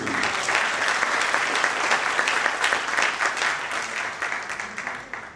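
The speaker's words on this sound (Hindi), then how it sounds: "जोरदार तालियां मासी के लिए।" Steady, full audience applause at a live bhajan concert fills the hall, dense clapping from a large crowd holding roughly even in strength before easing slightly toward the end.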